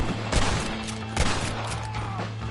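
Gunfire in the Red Dead Redemption video game: a few sharp shots ring out over a steady low in-game hum, with a loud burst near the start and another about a second later, then quieter scattered cracks.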